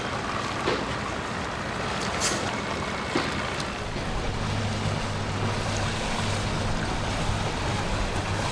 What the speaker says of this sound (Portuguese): um lugar onde os sons são abafados pelo vento e pelas ondas